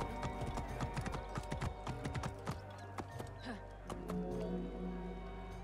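Horse hooves clip-clop steadily on a city street in the Assassin's Creed Origins game, set in ancient Alexandria, with an occasional whinny and light ambient background around the even, fairly close footfalls.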